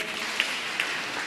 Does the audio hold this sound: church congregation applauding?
yes